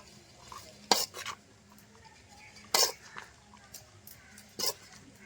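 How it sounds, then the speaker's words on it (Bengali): Three sharp scraping clatters of a utensil against a pan as cooked rice is stirred with vegetables, spaced a couple of seconds apart, with quiet background in between. "শুকনো ভাত কটা দিয়ে ভালো করে নাড়িয়ে চাড়িয়ে ভালো নেব"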